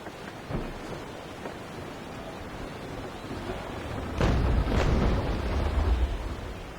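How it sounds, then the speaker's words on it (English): Stern chaser cannons fire from a sailing warship in the Naval Action game: two deep booms land close together partway through, over a constant low rumble of sea and wind. "Those are my stern chasers, for those of you who couldn't tell."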